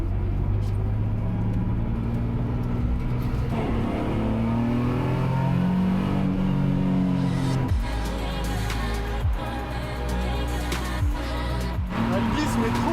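Drift car engine revving and droning at a track during a drift weekend, rising and falling in pitch with a low rumble underneath, loud and close throughout.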